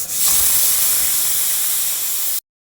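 A pressure cooker on the stove, holding a ram's head curry, releases steam in one loud, steady, broadband hiss for just over two seconds. The hiss then cuts off abruptly. No voices are heard.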